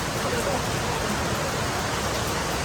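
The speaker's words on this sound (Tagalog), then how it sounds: "Yes, grabe talaga ang ulan ngayon." Heavy rain falls on a farm as an even, unbroken roar of broadband hiss. It is steady and fills the scene from start to end, with no clear pauses.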